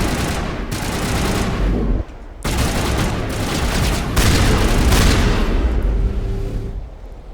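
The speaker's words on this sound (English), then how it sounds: "Who's shooting at me?" Sustained gunfire in Mass Effect 1: dense, loud bursts of automatic shots rattle almost continuously, broken by a brief pause, with booming impacts and no talking.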